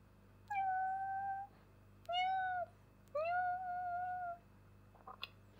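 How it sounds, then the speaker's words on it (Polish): Three drawn-out cat meows, the second shorter, spaced a second or so apart against a quiet room, with a faint rustle at the end. "sorry za kota w tle, on tam coś robi."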